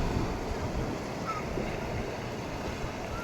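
Big sea waves roll in at Someshwara Beach in Mangalore on an evening, a steady washing roar of surf mixed with wind buffeting, continuous and fairly close.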